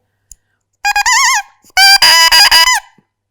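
A double reed crows in two loud, buzzy squawks, the first wavering in pitch, the second longer and rougher, with silence around them.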